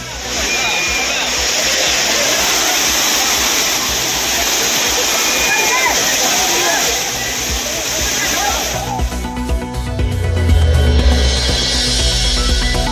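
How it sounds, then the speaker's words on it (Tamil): Courtallam waterfalls gush with a loud, dense, continuous roar of crashing water that shifts in character near the end as a low tonal hum joins in. "குற்றால அருவிகளில் ஆர்ப்பரித்து கொட்டும் நீர்."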